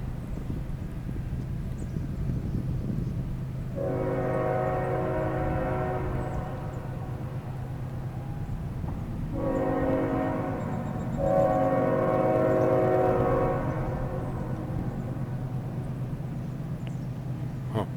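A CSX freight train rolls slowly past a crossing with a steady low rumble throughout, while its horn sounds in long harmonic blasts, one around the middle and a louder, longer pair toward the end, fairly close.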